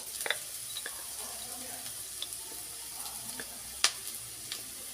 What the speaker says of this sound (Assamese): আৰু খুব এইদৰে মই ভালদৰে লৰাই ল'ম